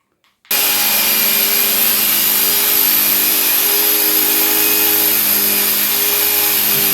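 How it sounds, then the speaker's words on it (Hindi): A drill bit bores a hole in stone during construction of a stone cabinet, starting abruptly after a brief silence and running as a steady, loud, unbroken whine with grinding texture. "ये ड्रिल बिट है जिससे कि पत्थर में सुराख होंगे।"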